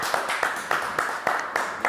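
An audience claps for a band on a French live show, a short burst of crowd applause that pulses in an uneven rhythm and stays fairly close.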